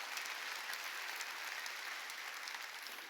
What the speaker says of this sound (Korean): 깨달은 사람만 박수 주세요.